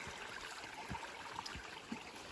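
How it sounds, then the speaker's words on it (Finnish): A hiking stream in Lapland's Hetta-Pallas trail trickles and gurgles nearby as a water bottle is filled, a steady running-water wash with small splashy bursts and no talk. "Veden täyttö."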